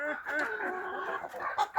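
Chickens cluck in a farmyard flock mixed with geese and turkeys, a near, steady run of overlapping clucks and calls lasting throughout, with a couple of sharper squawks at the end.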